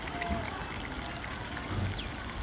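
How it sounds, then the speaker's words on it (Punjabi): Cooking oil poured into sugar water in which the sugar has fully dissolved, while making sweet mutanjan rice: a faint, steady trickle of liquid close by in a quiet room. "ਹੁਣ ਅਸੀਂ ਐਡ ਕਰਾਂਗੇ ਕੁਕਿੰਗ ਆਇਲ।"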